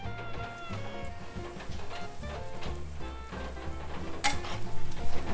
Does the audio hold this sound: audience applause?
no